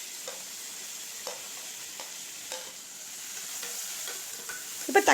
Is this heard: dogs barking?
no